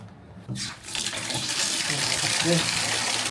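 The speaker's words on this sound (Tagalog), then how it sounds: "Check natin ang tubig. Malakas ang tubig." A campsite tap is turned on, and strong running water gushes steadily and close by. A voice speaks briefly over the flow.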